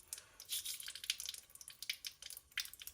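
Water rinses a forged Damascus steel knife blade of 90 layers, giving soft, irregular splashing and dripping bursts close by, with no talk.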